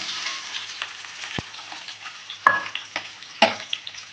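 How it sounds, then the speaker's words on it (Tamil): Onions and green chillies sauté in a hot pan for ragi semiya with a steady sizzle, punctuated by a few sharp scrapes and clinks of a spatula stirring. "ஆட் பண்ணிவிட்டு நல்லா வதக்கி வச்சுக்கலாம் நல்லா வதங்கட்டும்"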